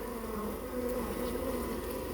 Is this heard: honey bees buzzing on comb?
yes